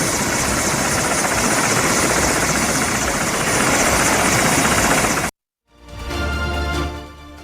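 A helicopter roars loud and steady, a constant rotor and engine drone at a Greater Noida wedding where it carries a bride away. It cuts out abruptly, then returns in a fainter, different-sounding stretch.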